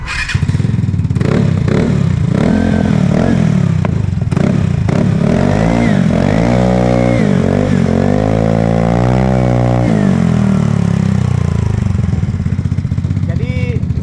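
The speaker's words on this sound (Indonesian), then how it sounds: "Knalpot gue pilih C0 Racing Standard karena bentuknya itu masih kayak standar aja tapi suaranya lumayan." A Vespa Primavera scooter with an aftermarket C0 Racing exhaust idles with a raspy exhaust note, then revs up and holds higher for several seconds before settling back to a steady rumble.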